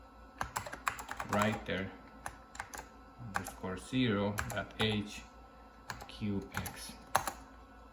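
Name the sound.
typing a filename on a computer keyboard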